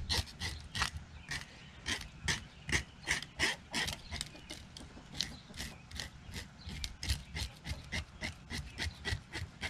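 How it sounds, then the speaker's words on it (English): A knife scrapes scales off a saugeye, rasping in quick repeated strokes against the grain. The strokes come in a steady rhythm, close and fairly quiet, with no talking. "you just go against the grain here and you're basically just scraping off the scales"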